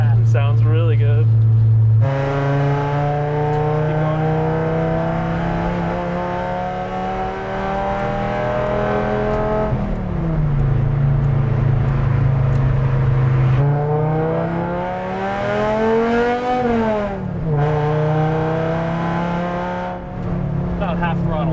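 Volvo 850 Estate BTCC-tribute engine fitted with custom individual throttle bodies and headers, revving loudly and repeatedly with rising and falling harmonic sweeps at around half throttle, while people talk nearby.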